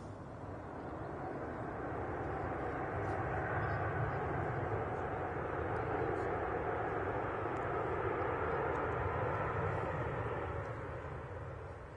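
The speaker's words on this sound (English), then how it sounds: "And here is this beautiful, beautiful A350 1000." An Airbus A350-1000 airliner lands at Manchester Airport, a steady, loud broadband engine roar that holds through the whole stretch with no voices.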